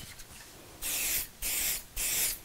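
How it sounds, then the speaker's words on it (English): Short bursts of 505 temporary spray adhesive are applied to a strip of quilt wadding for a sewing project, giving three distinct hissing sprays in quick succession, close and fairly loud against a quiet room. "I'm just going to secure that in place with a piece, with a little spray of 505."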